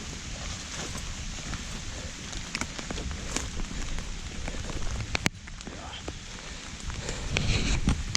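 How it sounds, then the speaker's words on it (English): Rain beginning to fall outdoors on a thundery morning, a steady broadband patter with scattered sharper drop hits and a brief knock, rising slightly toward the end. "And of course, it's starting to rain."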